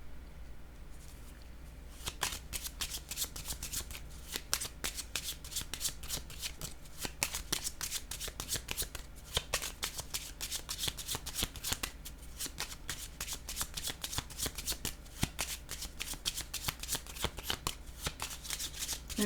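A deck of tarot cards being shuffled by hand, with repeated close, crisp riffling and slapping bursts running steadily throughout, no voices.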